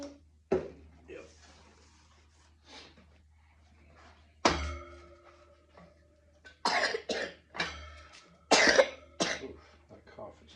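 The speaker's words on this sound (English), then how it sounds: "that cough is gnarly" Several harsh coughs burst out close by, a single one first and then a rough cluster of hacking coughs, amid quiet background movement.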